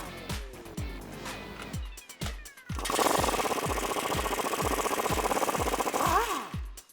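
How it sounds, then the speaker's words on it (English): A socket tool loosens the 18mm lower shock bolt nuts on a 2004-2014 Ford F150, with separate sharp knocks and then a loud, rapid, sustained hammering burst, close by. "next we're gonna loosen our lower shock bolts here. Those are 18mm nuts, so you'll need an 18mm socket."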